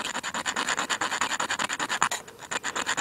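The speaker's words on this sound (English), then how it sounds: "I am scraping the crap out of this magnesium right now." Magnesium is scraped off a magnesium fire-starter block outdoors in snow: fast, steady rasping strokes close up, one after another in a tight rhythm with a brief pause near the end, and no voices.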